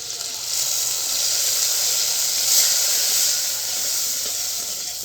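Ground spice paste hits hot oil while a fish curry cooks outdoors, giving a continuous bright sizzling hiss that swells slightly midway, steady and close without talk.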